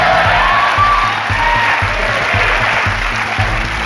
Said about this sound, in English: When Travis said the answer to this question, the audience clapped.